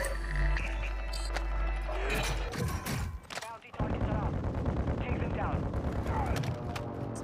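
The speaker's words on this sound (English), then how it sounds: "Someone shooting my roof, maybe?" Bursts of gunfire from a video game crackle and pop at varying distances, some rapid and clustered, under and between spells of someone talking.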